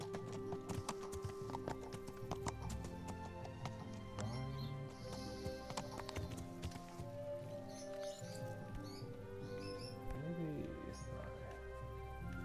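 A horse walks in Kingdom Come: Deliverance, hooves clip-clopping in an irregular steady gait across ground near graves, with people talking over the hoof steps.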